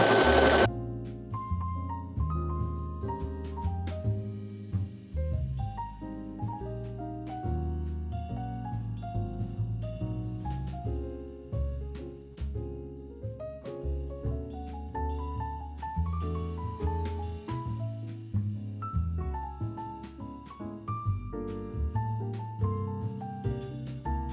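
A sewing machine stitches a small fabric keyfob, with the needle lifted just slightly off the machine bed. It runs continuously for about twenty-four seconds as a dense, loud whirring whose pitch keeps stepping up and down with the motor speed.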